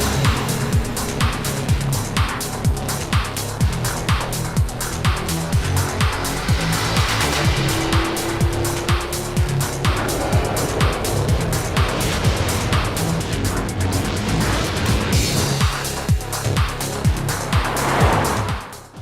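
A Mercedes EQS electric luxury sedan on a drive, with steady road and tire roar and a faint whine, continuous throughout with a brief thin tone near the middle.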